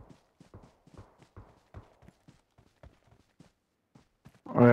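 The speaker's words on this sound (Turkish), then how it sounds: "Ayak sesi var çevrende" Footsteps in PUBG Mobile, a quick series of soft close thuds in a steady walking rhythm, faint and alone, ending in a sudden loud burst of other game noise.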